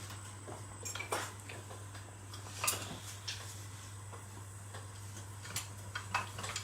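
Fennel seeds and red chillies are stirred in a pan of hot ghee, faint scattered ticks and scrapes of a utensil against metal over a low steady hum, no voices.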